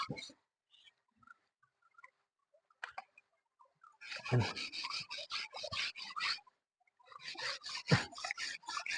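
Beside a stream, a bolo knife blade is sharpened with rhythmic rasping strokes. The strokes start after a quiet stretch of faint scattered sounds, come close and steady, pause briefly, then resume.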